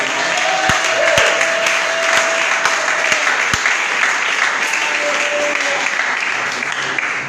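A church congregation at a Sunday service applauds, a dense, steady wash of clapping that fills the room for several seconds, with a few sharper individual claps standing out near the start.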